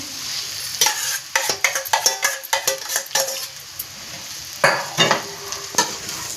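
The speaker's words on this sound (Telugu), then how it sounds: "ఉల్లిపాయలు ఫ్రై అయిపోయాయి ఇప్పుడు బంగాళదుంపలు మనం కలుపుకొని పెట్టుకున్నాం కదండి అది కూడా వేసేస్తున్నాము" Potatoes and onions for aloo bonda are stirred in a frying pan, giving close, irregular scraping bursts over a steady oil sizzle with a few pan clinks.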